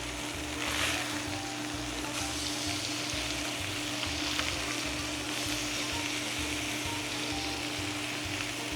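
Chicken thighs fry in a pan, browning on their second side: a loud, steady, close sizzle that holds evenly throughout, with a faint low hum underneath and no voices.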